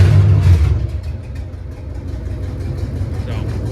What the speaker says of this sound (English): But you can tell it's got a hell of a misfire. It's a lot more responsive than it was.